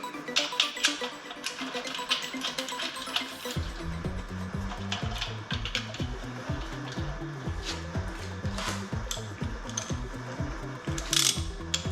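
A socket ratchet drives bolts into a VW AAB 2.4-litre diesel engine during a rebuild. After some workshop handling noise, rapid close metallic clicking runs in quick repeated strokes and keeps going steadily to the end.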